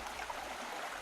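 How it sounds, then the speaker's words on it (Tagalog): Steady rush of the fast-flowing Marag river, a continuous broadband wash of water heard close and fairly soft over a brief moment. "Kailangang tawirin ang rumaragasang ilog ng Marag."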